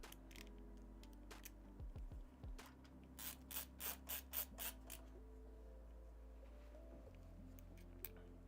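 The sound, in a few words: bolting a power supply into a PC case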